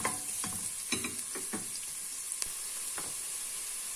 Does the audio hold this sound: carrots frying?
yes